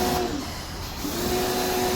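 A sprayer blasts water onto a very dirty aircon condenser during a general aircon service, giving a steady, loud rushing hiss with a motor-like hum and faint tonal whine that runs continuously, briefly easing near the middle, with no talk.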